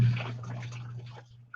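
A Tabu portable washing machine running full of water, with a steady low motor hum under soft sloshing and swishing water, close by, ending with a small splash.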